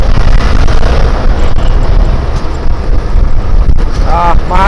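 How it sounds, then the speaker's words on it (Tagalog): Strong wind buffets a microphone on a moving vehicle on a dusty road with no windshield fitted, making a loud continuous roaring rumble with a voice faintly heard near the end. "Mahangin."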